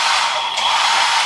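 A hotel hair dryer runs steadily and close, a continuous loud broadband airy whoosh with no talking over it.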